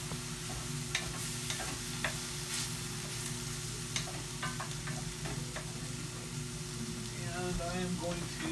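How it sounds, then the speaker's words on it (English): Bacon frying in a pan until crisp, a continuous close sizzle with frequent crackling pops and occasional scraping stirs, a few faint voices in the background. "We want to just kind of cook this bacon until it starts to crisp up."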